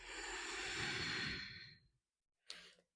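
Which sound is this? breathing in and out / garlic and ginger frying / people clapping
breathing in and out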